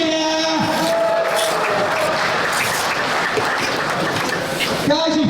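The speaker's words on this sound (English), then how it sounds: "give us a big cheer!" At a plastering trowel competition, an audience cheers and applauds in a dense, sustained wash of crowd noise that holds loud from start to finish.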